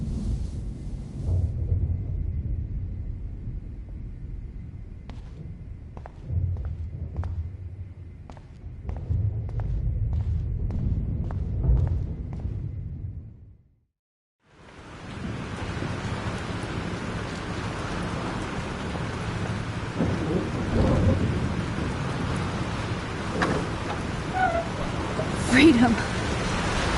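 A thunderstorm with rain in a video game, with dense steady rain hiss and low rumbling swells. After a brief silent gap the downpour returns louder.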